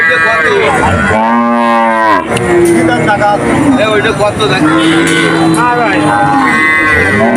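A cow moos loudly and repeatedly at a busy cattle market, long drawn-out lowing calls close by, with crowd chatter and traffic noise underneath.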